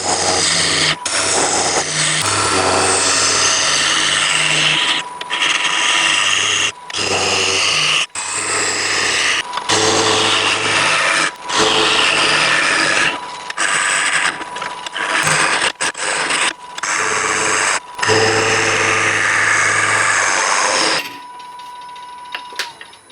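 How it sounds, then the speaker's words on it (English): A scraper cuts a magnolia wood bowl spinning on a lathe, giving a steady loud scraping whir broken by brief pauses, then stopping near the end. "The scraper makes it a lot easier."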